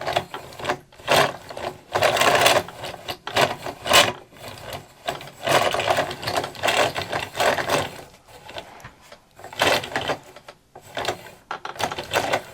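A yarn winder turns a ball of yarn in uneven, rhythmic bursts of whirring and rubbing, close and fairly loud, with short pauses between spins as the oversized ball snags.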